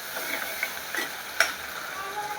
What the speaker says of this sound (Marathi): आपण बघा टोमॅटो छान परतला गेला